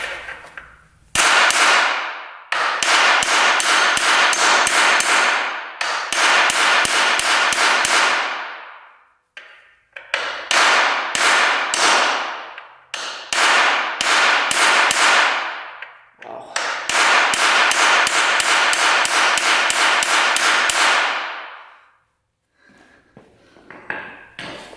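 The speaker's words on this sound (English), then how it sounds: "All right, we've got the air hammer." An air hammer works on a YFZ 450 ATV, sounding as loud, sharp rattling bursts several seconds long, separated by brief pauses, close by and with no talking.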